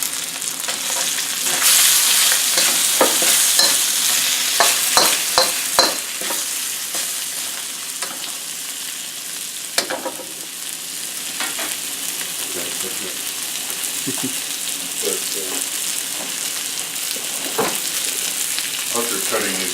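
Chilies and shredded carrots frying in oil in a pan, a loud sizzle with repeated stirring scrapes and clatter that settles into a quieter steady frying.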